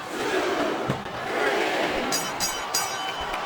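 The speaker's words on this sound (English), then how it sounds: "I think this crowd's giving these superstars a piece of their minds, King." An arena crowd in the WWE SmackDown vs Raw 2007 wrestling game roars and chants continuously during a Shawn Michaels vs The Rock ironman match, with a few sharp bursts of cheering.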